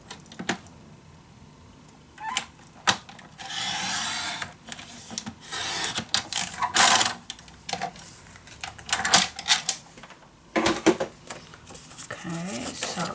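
Scissors snipping through folded patterned paper for a handmade ocean-themed scrapbook mini album, close-up with several rasping cuts in short bursts separated by brief pauses.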